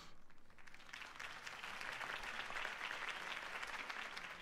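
Crowd applause from the Telltale Batman video game fills the scene as a steady wash of clapping that swells and holds, moderately loud with no talk over it.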